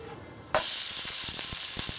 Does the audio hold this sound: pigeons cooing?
no